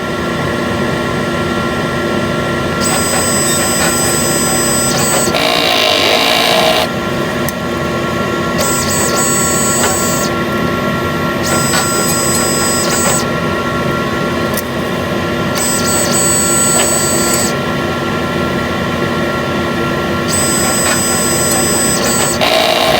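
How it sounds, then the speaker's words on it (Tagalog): A Smart One sublimation printer runs a head-clean cycle, a steady mechanical whir and hum with repeated bursts of higher whining motor noise as the print head moves back and forth, continuous and fairly loud with no talking. "Ito po ang Smart One printer."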